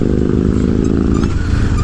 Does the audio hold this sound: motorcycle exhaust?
yes